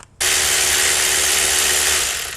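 After a brief quiet moment, a power drill whirs steadily and loudly at close range for about two seconds while working on a 2012 Toyota Corolla.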